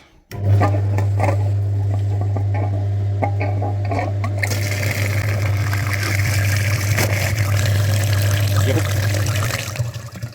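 A car heater radiator flushing machine runs steadily, hooked to the heater core of a vehicle with weak cabin heat, giving a loud continuous pump hum with sloshing, rushing liquid layered on top throughout.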